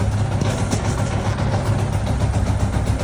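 A Yamaha Y15 motorcycle engine with back pressure exhaust setup runs loud and steady with a low rumbling throb, its pitch holding fairly constant without clear revs.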